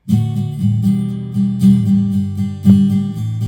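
Boomy acoustic guitar strumming through a pickup blend set to maximum, with a heavy, woofy low end dominating the chords, loud and close, several strokes in a steady rhythm.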